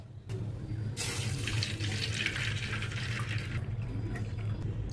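Water streams steadily into a cooking pan of semolina for several seconds, a continuous splashing rush close by.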